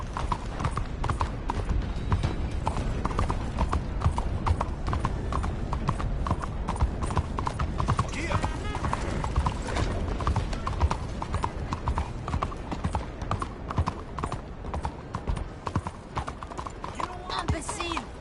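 A horse gallops with fast, heavy hoofbeats drumming continuously and loudly up close, a dense unbroken rhythm with some voice mixed in.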